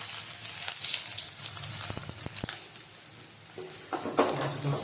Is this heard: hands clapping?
no